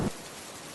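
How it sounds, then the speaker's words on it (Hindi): Rain falling steadily on a hut roof, a soft continuous hiss of drops with a brief louder patter at the start, heard alone without voices. "झोपड़ी की छत पर बारिश गिरने की आवाज साफ सुनाई दे रही थी।"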